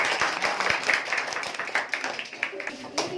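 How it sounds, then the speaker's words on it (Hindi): Students in a rural village classroom clap their hands in a quick, irregular patter of many overlapping claps, with voices talking throughout. "अब ताली बजाओ जब पहुंच जाए"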